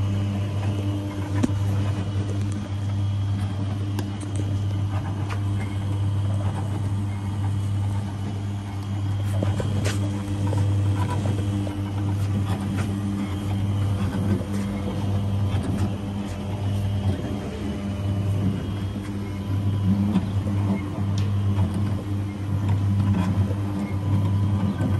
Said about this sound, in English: And the motor's quite loud as well.